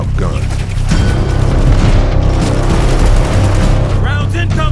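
Gunfire in a military trailer, loud continuous bursts and booms filling the mix with mechanical clatter, while a voice shouts over it.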